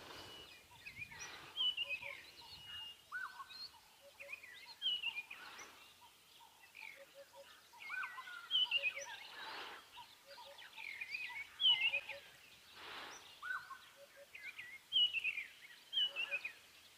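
Many birds chirp, trill and call in overlapping bursts at dawn around a lion enclosure, moderately close and continuous, with a few repeated short call patterns and no talking.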